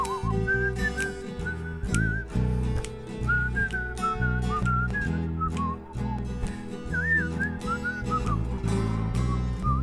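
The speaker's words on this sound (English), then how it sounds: "You gonna whistle for it" A person whistles a wavering melody for nearly ten seconds, loud and steady over a dense, continuous musical backing.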